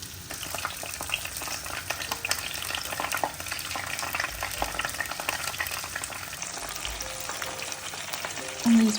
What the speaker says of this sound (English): I started to fry up the samosas.